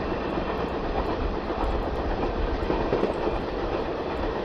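A train rolls steadily along its rails in a video game, a continuous loud rumble of wheels and carriage noise with no break and no voices.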